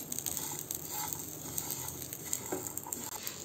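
Curry leaves and masala spices roasting in a pan for stuffed baingan masala, a soft continuous sizzle and crackle with small pops and stirring scrapes, close and steady with no talk.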